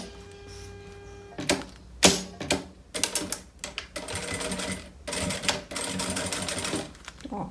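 Sewing machine stitching a beach bag in bursts of rapid mechanical chattering separated by short pauses, close and clear, with a faint hum before the first run.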